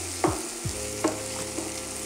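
Onions frying in a pan until translucent give a steady close sizzle, broken by a few sharp clicks and scrapes of a utensil stirring.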